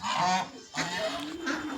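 Loud nasal honking calls from ducks, a burst of repeated honks, a brief pause, then more honking close by.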